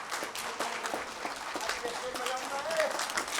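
An audience at a Nepali political party gathering claps in a loose, moderately loud patter, with scattered hands and a speaker's voice coming through faintly over the applause.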